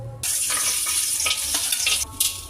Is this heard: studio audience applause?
no